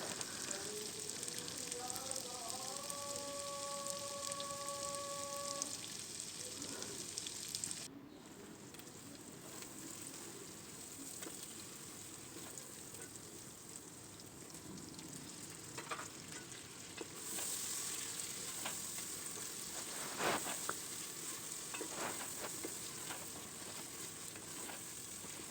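Masala spices frying and sizzling in a pan, a continuous hiss with occasional stirring scrapes, a brief tonal beeping near the start, moderately close and steady throughout.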